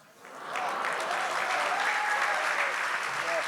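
An audience at a poetry session breaks into applause, the clapping swelling quickly from quiet and then holding as a steady, full wash of hands from a large crowd.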